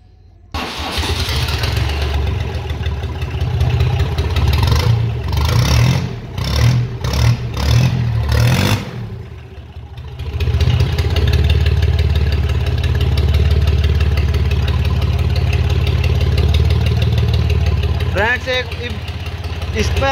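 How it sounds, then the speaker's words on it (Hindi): A tractor fitted with a new silencer exhaust cranks over in several choppy bursts, then catches and settles into a loud, steady diesel idle, with voices heard over it. "एक बार ट्रैक्टर को स्टार्ट कर लेते हैं, चेक करते हैं एक बार साउंड कि कैसा आ रहा है।"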